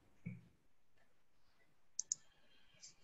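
A computer mouse gives two quick, sharp clicks close to the microphone in a quiet room, with faint handling noise around them.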